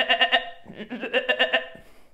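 A person imitates a sheep's bleat with a throaty, quavering voice, giving a close series of rhythmic pulsing bleats with a short break in the middle and no other sound.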